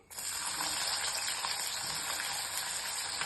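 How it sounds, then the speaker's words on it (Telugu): Onions frying in hot oil in a pan, a loud, steady, dense sizzle that starts abruptly and continues unbroken, close and alone without talk. "ఇవి గోల్డెన్ బ్రౌన్ కలర్ వచ్చేసి ఫ్రై చేసుకోవాలి"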